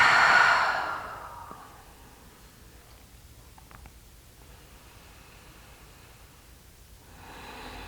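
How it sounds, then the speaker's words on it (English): A single deep, airy exhale during a gentle yoga breathing exercise, loud and close at the start and then fading, followed by several seconds of near silence with faint rustling. "Really let it go on your exhale this time."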